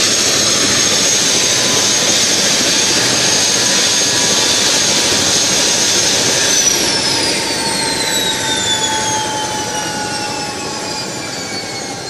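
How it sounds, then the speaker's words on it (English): The Manipur chief minister's helicopter at a Naga village helipad in the hills, a loud, steady whining turbine roar close by, with a falling pitch sweep as the engine note shifts and gradually eases. "chief minister nong thombam biryan housing helicopter da Imphal ge kangla da gi khoi tapau naga village ki assam rifles ki leiba helipad asida"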